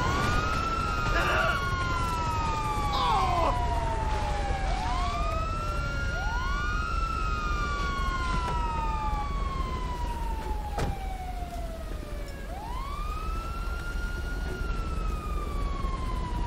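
A police car siren wails in the GTA 5 video game, with repeated rising and falling sweeps in a loud, continuous cycle, the siren alone without voices.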